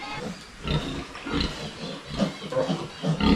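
Boar pig grunting in a farm pen, a run of rough low grunts and snorts at moderate volume, recurring irregularly with brief pauses between them.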